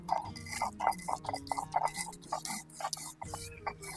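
Mustard seeds and salt being ground into a paste on a grinding stone, giving a steady rhythmic series of scraping, rasping strokes, close and moderately loud, with no talking.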